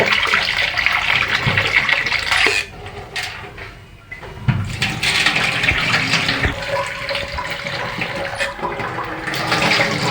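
Masoor lentils are rinsed under running tap water, a loud close gushing stream with splashing and sloshing, briefly dipping in the middle before surging again.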